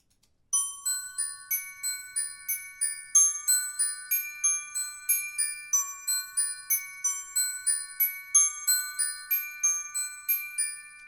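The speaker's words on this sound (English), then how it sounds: "I've also made lots of use of the glockenspiel in this piece to help add to the magical and fantasy feel." Glockenspiel from the Nucleus Lite orchestral sample library, played alone: a bright, tinkling melody of quick metallic notes at a steady pace, each ringing briefly, clear and solo with no voices.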